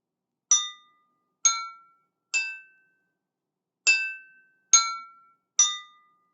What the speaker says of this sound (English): I'm going to tap on each glass